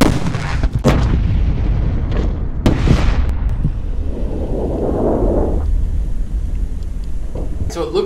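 A grain silo explosion with a fireball lets out a loud, close, booming blast that rolls into a long rumbling roar and fades into lingering debris noise, with voices heard briefly in the mix.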